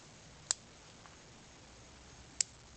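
Cutters snip bald cypress bonsai growth twice, two sharp, quiet clicks about two seconds apart in a still room.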